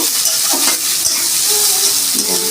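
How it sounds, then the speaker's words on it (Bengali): Onions frying in oil in a pan, a steady loud sizzle with faint clinks and stirring noises throughout, no voices. "এখন আমি পেঁয়াজ দিয়ে দেব পেঁয়াজটা ভালো করে ভেজে নেব"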